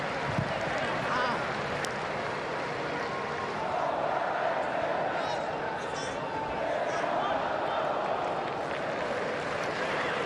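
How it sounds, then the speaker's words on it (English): Stadium crowd at an A-League football match between Wellington Phoenix and Newcastle Jets in Wellington, a steady roar of supporters urging the home side on, broad and sustained for the whole stretch, with commentary talk over it. "the crowd start to find their voice to urge the home side on"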